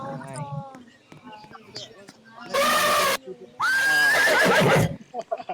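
A horse in a Roblox game whinnies twice in loud, bright bursts, the second longer with a rising squeal, between softer game sounds and a voice talking.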